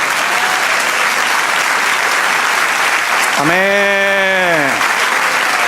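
Church congregation applauding the Lord during a Spanish-language service, with steady, dense clapping across the whole stretch and a single voice briefly calling out partway through.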